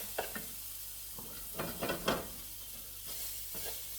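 Chopped onion, added alongside green pepper, sizzles in a hot pan for Salisbury-style cubed steak, with a steady low frying hiss. Several scraping stirs and light utensil knocks come through at intervals, and no one speaks.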